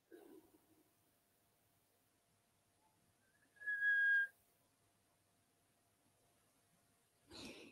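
Clear human whistle holding one steady high note for about a second, mid-clip, with faint breathing at the start and a short breathy sound near the end.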